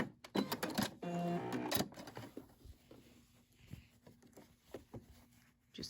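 A Brother SE600 sewing machine stitches forward and back through fabric remnants, giving a short burst of quick mechanical whirring followed by softer clicks and handling noises, close and fairly quiet.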